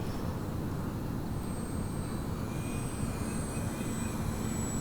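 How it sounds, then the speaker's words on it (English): An H-King FG-1 Corsair RC model airplane makes a presentation pass, its steady engine drone dense and even the whole time. A faint high whine drifts across it as the plane goes by. "when the airplane is that pretty, to be honest, I really just like watching it go by"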